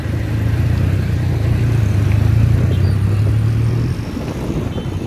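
A motor vehicle engine drones steadily and close by for about four seconds, then fades slightly as it moves on, with a low rumble and no voices.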